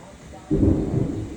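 A rumble of thunder during a storm rolls in suddenly and loud, a deep, sustained low roar that swells and lingers over soft rain, heard from indoors.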